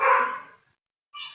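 Dogs bark from another room, one muffled bark fading out, a short silence, then another bark starting.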